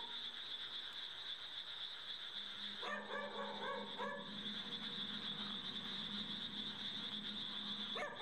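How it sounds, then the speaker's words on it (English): Dog barking in a graveyard at night, a few sharp distant barks and yips over a steady high electronic hum and background hiss. "he decides to film as he searches for the barking dog"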